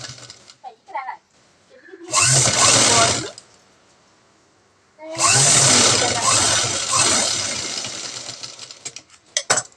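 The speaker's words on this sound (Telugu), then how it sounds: "ఈ బార్డర్ కింద కూడా ఒక స్టిచ్ అనేది వేసుకోవాలి." A sewing machine stitches a border on fabric in two sustained, loud whirring bursts close by, separated by a pause, with a few soft clicks and handling sounds around them.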